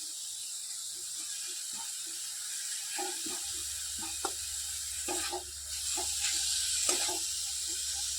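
Spice paste of cumin, turmeric and coriander powder frying in a pan, a soft continuous sizzle with repeated scraping and clicking taps from stirring, moderately close, joined later by a low background hum.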